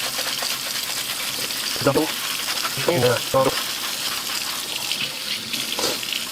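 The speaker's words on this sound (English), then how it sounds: "Just a little dish soap on there, and we'll see if this starts to come clean at all." A scrub brush with dish soap works over the interior door panel of a Ford dentside truck, giving a wet, steady bristly scrubbing hiss, with brief speech breaking in partway through.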